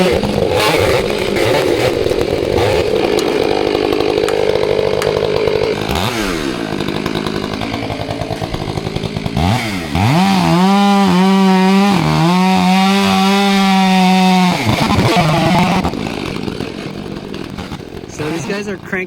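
A chainsaw cutting up a back-leaning tree, the engine droning loudly at steady cutting load, then revving up and down in sharp bursts with a falling pitch as the throttle eases, fading toward the end.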